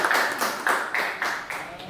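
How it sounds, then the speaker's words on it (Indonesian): Students in a classroom clap their hands in a short burst of roughly rhythmic, closely spaced claps, fairly near and moderately loud. "Oke, tepuk tangan dulu."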